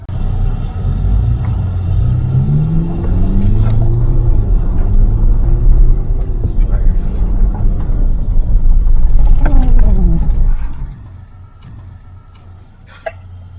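MG Majestor SUV on an off-road track, its engine rumbling loud and near as it accelerates with rising pitch, then easing off and braking before the noise drops sharply to quiet idle.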